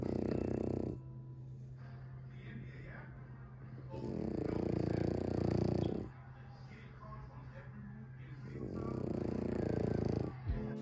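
A French bulldog snores in loud, rough, rattling bursts, three long inhalations spaced several seconds apart, with quieter breathing between them.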